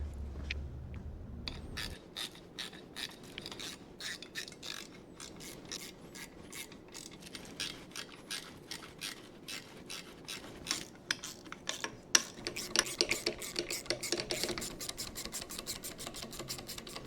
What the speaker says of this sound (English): let's see about tightening all that stuff up now